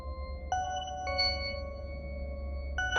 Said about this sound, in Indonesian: Ada yang menekan bel kita, guys.